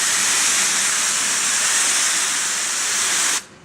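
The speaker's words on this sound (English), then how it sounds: "But when you wash, you've got your hot water going." A hot-water pressure washer trigger gun sprays steadily at a closed-loop wash rack, a loud, continuous broadband hiss that runs unbroken for over three seconds and then cuts off abruptly when the trigger is released.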